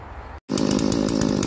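Clone chainsaw with a 36-inch full-chisel bar cutting Australian hardwood: a brief drop to silence, then the engine roars into a loud, steady cut with rapid pulsing chain chatter, close up and alone.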